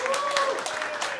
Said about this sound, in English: can you give a round of applause for our guests right behind us